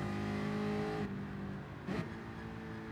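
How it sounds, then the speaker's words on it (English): A Group 4 racing car engine in Gran Turismo Sport drones at high revs, then drops in pitch as the driver lifts and shifts, with a brief rev burst; fairly quiet. "Just listen to this Group 4 car"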